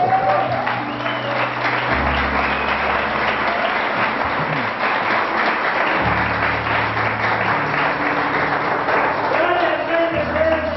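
Loud congregational applause in a church worship service, steady and full for several seconds, with organ or keyboard chords and faint voices underneath.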